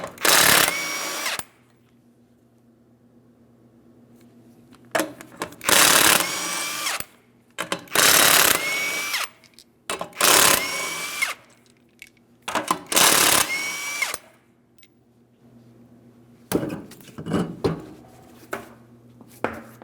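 A power tool, likely an impact wrench, zips off five 21mm lug nuts from the rear wheel of a 2003-2008 Toyota Matrix, sounding as a series of loud bursts of one to two seconds with short pauses between them, close up.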